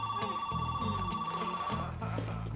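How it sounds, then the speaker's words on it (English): A telephone bell rings steadily over a dense backdrop of music and scene noise in a TV drama, its repeated trilling bursts running through the whole stretch. "Relax, everyone. It's a phone,"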